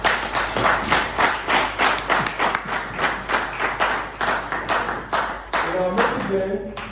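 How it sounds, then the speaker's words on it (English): An audience at a company launch event in Ghana claps for the company president, a close, rhythmic run of sharp hand claps pulsing evenly for about seven seconds. "Let's give him a hand of applause."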